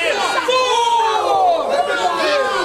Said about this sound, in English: the crowd not liking the game of the Masshole, Mike McCarthy.